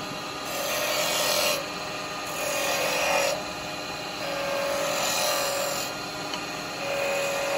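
Roughing gouge cutting a spinning wood blank on a lathe for end curves and coves, a steady rasping hiss that swells and eases in repeated passes of about two seconds each under the constant motor hum.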